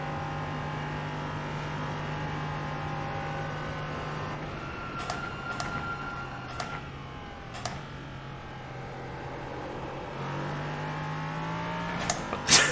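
A race car engine held at steady pitch on a fast lap, with sharp gear changes and brief revs breaking the drone; it stays loud and continuous throughout with no talk.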